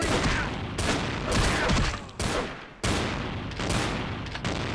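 Gunfire in Vampire the Masquerade Bloodlines, a holdup in a store, heard as loud, dense rolling bursts of shots and booms repeating in several waves, close and harsh with no voices.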